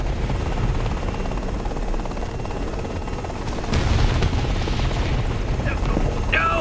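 A helicopter going down in a video game, with loud continuous rotor and engine roar, a booming impact partway through, and a sharp whine near the end.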